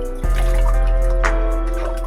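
Tap water runs steadily into a basin or sink while Chinese pechay is rinsed for tinola, a continuous close splashing stream with a brief gurgle near the start and no talking.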